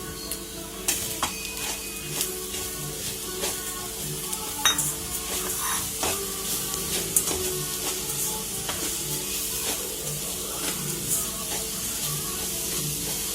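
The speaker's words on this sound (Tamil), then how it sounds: "இப்போ நம்ம இதில் நாட்டு சர்க்கரையை கொட்டிக்கிடுவோம்." Jaggery goes into a pan of roasted coconut for laddu and is stirred, with a soft continuous sizzle and frequent light scrapes and clicks of the spoon against the pan, close and steady.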